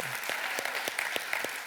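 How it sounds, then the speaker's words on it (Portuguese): A church congregation claps together in a brief burst, a dense wash of many hands at moderate distance, steady throughout with a faint voice underneath. "Você pode se aplaudir a si mesmo?"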